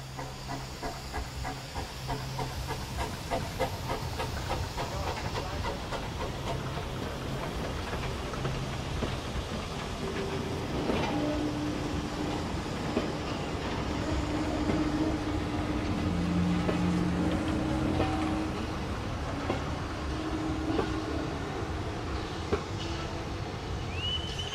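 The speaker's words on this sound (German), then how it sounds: "Auf der Rückfahrt trifft der Triebwagen im Bahnhof Büron Bad Knutwil auf den Güterzug" At Büron Bad Knutwil station, a railcar meets a freight train hauled by locomotive E 3/3 No. 6: a long, steady hiss and rumble of railcars with clanking and low tones rising and fading, no talking.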